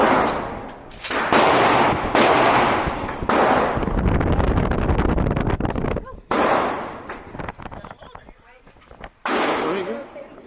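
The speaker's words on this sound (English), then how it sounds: "I want to shoot my own little gun." Gunshots fired at a gun range, a rapid series of loud sharp cracks with echoing decay, several in quick bursts, and people talking between the shots.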